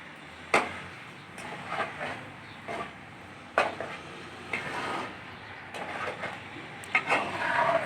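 Bread halwa cooking with sugar in a pan is stirred with a spoon, giving repeated scraping knocks and clinks every second or so over a soft, steady sizzle, close and without talk.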